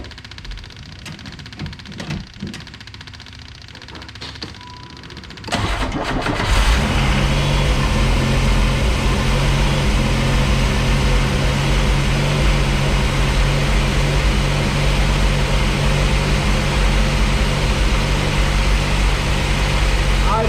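A Pontiac Fiero engine cranks briefly and catches, then settles into a loud, steady high idle that drones on unbroken; faint talk and handling noises come before the start.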